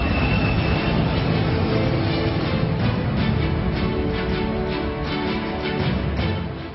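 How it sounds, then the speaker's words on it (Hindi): An Indian Air Force C-17 Globemaster transport aircraft flying over Japan, a loud, steady jet engine roar that fills the whole clip and fades slightly at the end, with no talking. "जापान के आसमान में भारतीय वायुसेना के ग्लोबमास्टर की उड़ान।"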